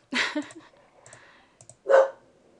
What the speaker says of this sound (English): my apologies, that is my dog being a brat